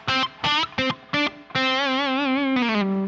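Distorted electric guitar plays pentatonic licks with no drone note: a few short clipped notes, then a long sustained note with vibrato sliding down at the end, close and loud, no talking.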